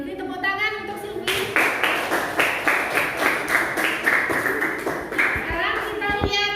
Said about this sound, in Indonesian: Tepuk tangan untuk Silvi